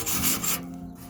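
A grate cleaning stone rasps down and back across a charred grill grate, one short close scrubbing stroke that fades out.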